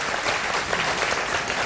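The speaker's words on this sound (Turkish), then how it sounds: "abimize bir alkışlar mıyız?" Audience applause at a Turkish TV program taping for Medya TV, steady dense clapping from a crowd that fills the whole short stretch at close range.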